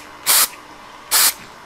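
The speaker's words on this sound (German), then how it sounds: "Man muss so ein bisschen daneben sprühen," Two short bursts of spray paint hiss onto a model spruce tree, each about a fifth of a second long, close and loud, separated by a brief pause.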